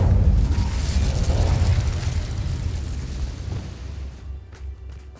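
Incendio fire spell cast in Hogwarts Legacy, a loud deep rumbling burst of flame that roars at once and slowly fades, ending with a few faint clicks.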